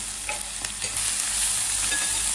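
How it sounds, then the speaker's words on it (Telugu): Onions fried red in oil with ginger-garlic paste, coriander and cumin powder added, sizzling loudly and steadily while a spoon scrapes and stirs the pan, with no talk over it. "ఉల్లిపాయలు ఎర్రగా వేగాయి కదండి అందులో కొద్దిగా అల్లం వెల్లుల్లి పేస్ట్ ధనియాలు జీలకర్ర పౌడర్ అండి"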